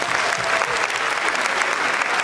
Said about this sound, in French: Est-ce que vous pouvez applaudir pour l'équipe nationale féminine du Mali